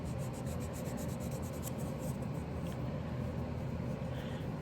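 A nail file smoothing the edge of a fingernail: a steady, close, dry rasping rub that keeps up for several seconds with no breaks.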